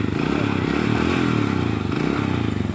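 A motorcycle engine runs close up in a rural village, a steady low idle chugging with slight rhythmic pulsing and some clatter, heard alone for a few seconds.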